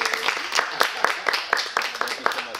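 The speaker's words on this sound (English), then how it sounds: "Yes, have another round of applause." A small audience at a brand launch presentation claps, with sparse, uneven hand claps spread over a couple of seconds and a murmur of voices underneath.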